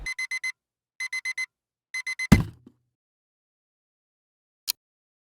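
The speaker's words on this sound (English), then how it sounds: "When that alarm hits, there's no negotiating that goes on." A digital alarm clock beeps in the morning, sounding three quick bursts of four sharp electronic beeps each, followed by a thud as it is switched off and then a faint click.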